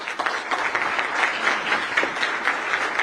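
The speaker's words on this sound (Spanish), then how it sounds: "Un aplauso, por favor." Audience applause at a Costa Rican government ceremony honoring a president, dense sustained clapping from a crowd, loud and steady for the whole stretch with no speech over it.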